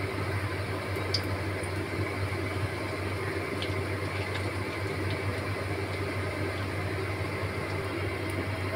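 Panch phoron spices sizzling in hot oil while a mustard fish curry is made, a steady soft crackling hiss that stays level throughout, close by, with no talking.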